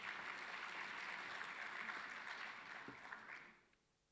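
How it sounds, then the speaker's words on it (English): Audience applause at an education sector conference session, a moderately distant wash of clapping that stays steady, then thins and fades away toward the end. "Let's give her a big hand of applause."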